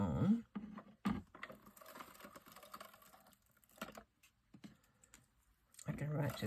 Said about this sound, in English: I think I'll stick these down with my tape runner